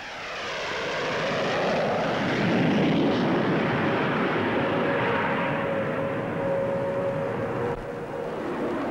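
A Gloster Javelin delta-wing jet fighter with twin Armstrong-Siddeley Sapphire engines roars past at the 1955 Farnborough Air Show, a loud sustained rushing jet noise with a thin whine that swells and slowly fades.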